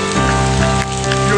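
Heavy rain pours down in a constant loud wash, with a steady tonal hum underneath and no speech.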